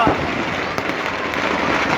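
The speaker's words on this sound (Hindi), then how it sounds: "आतिशबाजी बन के छूट रहा है" Fireworks burst and crackle as a Ravan effigy burns at a Dussehra festival in Jodhpur, a dense continuous rain of crackling pops with a few sharper bangs, heard at a moderate distance under a commentator's voice.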